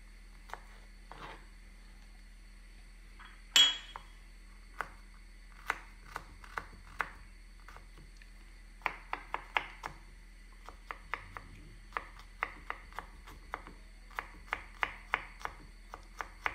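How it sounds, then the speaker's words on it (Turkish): A knife finely chops garlic on a cutting board in quick, evenly spaced taps, close up and moderately loud, with a short pause partway. "Şimdi sarımsaklarımızı alıyoruz. Onları da mümkün olduğunca ince ince doğramaya çalışıyoruz."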